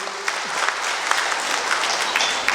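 A crowd claps steadily, a dense sustained round of applause filling the space.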